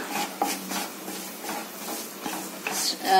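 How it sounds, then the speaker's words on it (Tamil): A spoon scrapes and stirs through a masala idly mixture with curry leaves and salt in a metal pan, giving soft repeated rubbing scrapes and light clinks at a close, moderate level. "இதை கொஞ்சம் நல்லா மிக்ஸ் பண்ணி விட்டுக்கலாம்"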